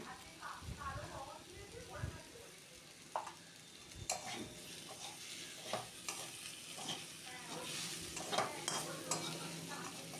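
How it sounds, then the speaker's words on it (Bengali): Katla fish curry with potatoes being stirred and fried, a spoon scraping the pan in irregular strokes over a soft sizzle, with a voice talking at times. "কিছুটা সময় এরকমভাবেই নেড়ে চেড়ে আমরা ভালোভাবে এটাকে কষিয়ে নিচ্ছি"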